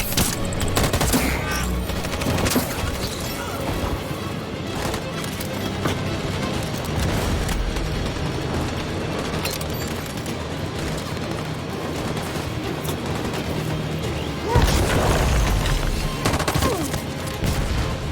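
A dense, sustained volley of gunfire in the video game Detroit: Become Human rattles on loud and continuous, with a heavier burst of shots near the end.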